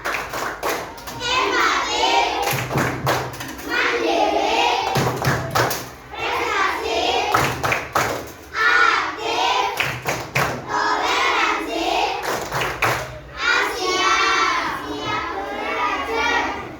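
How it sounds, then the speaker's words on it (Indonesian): Grade four primary school pupils in an Indonesian classroom perform a rhythmic clapping chant, with bursts of sharp synchronized claps alternating with loud chanted children's voices in a repeating pattern. "Bu Risma kasih SBG dulu lah. Tepuk kelas 4."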